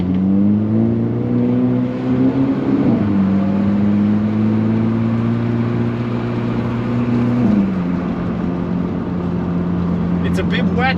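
A 2022 Hyundai Elantra N accelerating on a damp race track, its engine droning loudly and steadily as the pitch climbs through gear changes, heard from inside the car.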